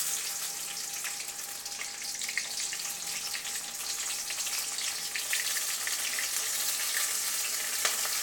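Onions fry in hot oil for a crab gravy, a dense continuous sizzle that stays close and even throughout with no speech.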